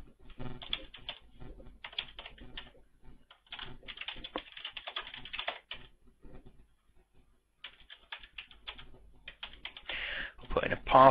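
A computer keyboard clatters in quick, uneven bursts of close, fairly quiet keystrokes while a sign-up form is filled in, with short pauses between runs of typing.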